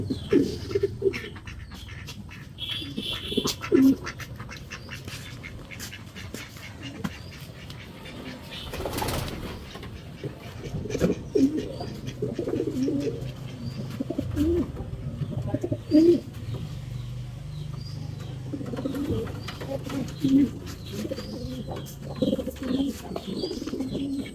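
Racing pigeons in a loft coo steadily in overlapping low murmurs, with occasional wing flaps and a brief loud rustle partway through, continuing unbroken for the whole stretch.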